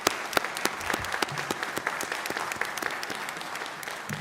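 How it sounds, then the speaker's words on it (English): A graduating class is applauded by the audience at a college baccalaureate ceremony: dense, sustained clapping from a large crowd that runs through the whole stretch at an even level. "So a round of applause for all of you again."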